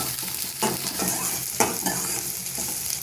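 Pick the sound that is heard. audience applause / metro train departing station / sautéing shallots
sautéing shallots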